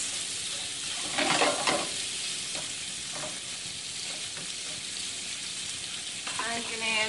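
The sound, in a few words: stirring shrimp sizzling in pan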